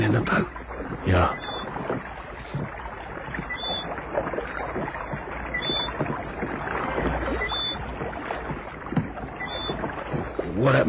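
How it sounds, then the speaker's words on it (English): Oars from a departing rowboat dip and splash in a steady rhythm, close and continuous, set in a vintage radio crime drama with a faint high whine running through the wash of water. "You'll never hear us swimming against the splash of his oars."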